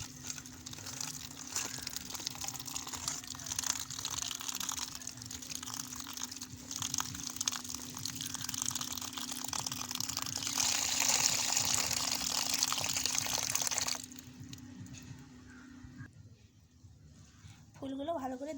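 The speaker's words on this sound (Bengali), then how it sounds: "সন্না ফুলগুলো ভালো করে আমি ধুয়ে নিচ্ছি এবারে।" Drumstick flowers are washed by hand in water for Bengali village cooking, giving a steady close swishing and splashing that stops near the end before a brief voice.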